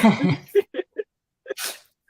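A brief spoken phrase is followed by a single sharp sneeze, with short quiet gaps between.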